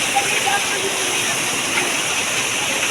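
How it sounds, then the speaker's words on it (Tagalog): Steady, dense hiss of heavy rain pouring down continuously, loud and close, with no voices over it. "grabe ang lakas ng ulan"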